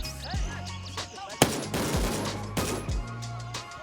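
Gunfire in the shooter game Gray Zone Warfare: several sharp, loud rifle shots ring out close by at uneven intervals, each followed by a short echoing tail.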